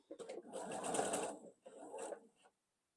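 Sewing machine stitching a quilt block seam in two short runs, a longer burst then a brief one, close and fairly quiet with no talking.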